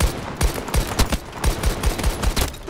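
Rapid bursts of tap-fired shots from the Hourglass gun in a video game, about a dozen sharp reports in an uneven rhythm, each close and punchy.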